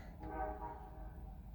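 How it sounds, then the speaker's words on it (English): A passing train sounds its horn, a faint, distant tonal blast that swells briefly and fades, over a low steady rumble outdoors. "Minus the train."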